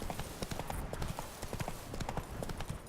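Roach the horse gallops through The Witcher 3: Blood and Wine, fast rhythmic hoofbeats pounding steadily and close for a few seconds amid game ambience.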